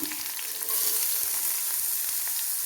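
Garlic and ginger are dropped into hot oil with mustard seeds and fenugreek for a dried fish pickle, and the steady, close sizzle of frying swells slightly once they land.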